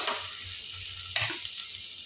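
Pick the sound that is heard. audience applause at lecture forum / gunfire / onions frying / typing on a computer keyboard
onions frying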